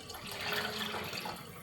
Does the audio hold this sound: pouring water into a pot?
yes